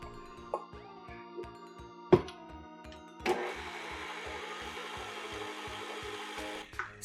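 An electric mixer beats icing sugar and vanilla into a macaron filling, a steady whirring motor with a low rhythmic pulse, a couple of clunks as it starts, then a louder, brighter whine as the speed rises, alone without talk.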